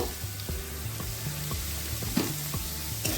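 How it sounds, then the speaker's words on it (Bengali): Chhana, a fresh cottage cheese, fries in a pan with a low sizzle as a spoon knocks and scrapes at a regular rhythm, close and moderately loud, with no voices. "ছানাটা দিয়ে একটু নাড়তে থাকব"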